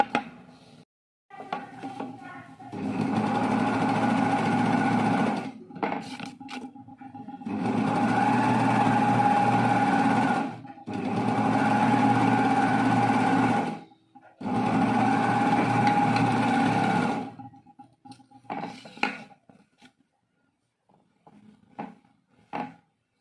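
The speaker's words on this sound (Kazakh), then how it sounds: "Содан кейін барып оверлокпен жүріп өтеміз" An overlock machine stitching a dress seam runs in four long steady bursts with short pauses between, its fast whirring hum loud and close, with fabric handling and small clicks around the runs.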